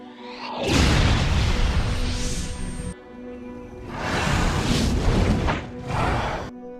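Two big, rumbling film bomb explosion blasts, each a long roaring boom with debris-like crackle, separated by a brief pause, loud and close.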